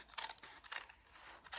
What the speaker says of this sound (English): I'm gonna just take my scissors and I'm gonna cut